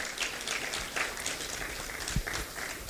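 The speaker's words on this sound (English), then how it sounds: "Please let's give him a round of applause." Audience applause greeting an invited guest at the KCPA international scientific conference, a soft, distant, continuous patter of many hands at low level with a faint thump partway through.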